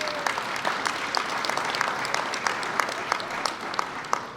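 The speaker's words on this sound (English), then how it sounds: "Can you give them a nice round of applause?" A crowd at an airport terminal event claps for officials, a moderate round of applause with a few distinct sharp claps standing out near the front.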